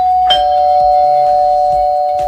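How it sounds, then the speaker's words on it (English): A single loud electronic bell chime rings out clearly and sustains, marking the end of a contestant's timed speaking turn at a male pageant show. "they will hear this bell."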